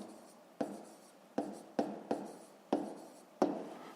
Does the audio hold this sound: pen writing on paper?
yes